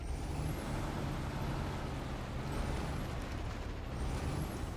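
Heavy truck in SnowRunner on hard mode, a steady low engine rumble running throughout with faint high air-brake hisses rising at intervals, no voices.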